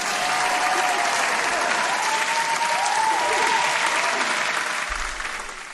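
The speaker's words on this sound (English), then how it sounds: "Let's get some applause in there" Sustained applause from a live audience at a Hamilton song performance, steady dense clapping throughout that fades slightly toward the end.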